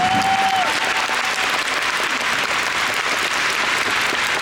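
A concert crowd applauds at a Christmas show, a loud, full, unbroken roar of clapping with a brief faint whistle near the start.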